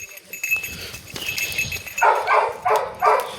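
A puppy gives a few short, high yips in quick succession near the end, after a stretch of soft shuffling and rustling in a cattle shed.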